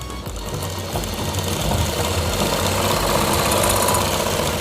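A sewing machine stitching a straight seam on a kurti, running steadily and close at an even, rapid mechanical rhythm with a constant whirring hum throughout.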